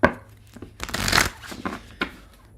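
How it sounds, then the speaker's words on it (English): Tarot card decks being shuffled close by, a quick run of riffling and slapping bursts of paper over a couple of seconds. "Only 4 more decks to shuffle."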